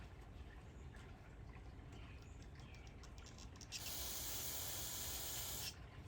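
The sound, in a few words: spraying carb cleaner on Stihl chainsaw part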